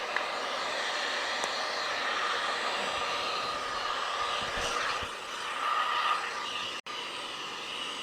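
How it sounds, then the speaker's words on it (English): A 1400-watt heat gun blows hot air onto PVC conduit with a steady, even rushing hiss, fairly faint and continuous throughout, with no voices. "This old heat gun is rated for 1400 watts and up to 1100 degrees."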